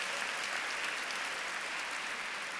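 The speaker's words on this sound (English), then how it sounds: "Let's give them a round of applause" Dense, continuous round of applause from an audience at an annual bar association dinner, many hands blending into an even roar that holds steady throughout.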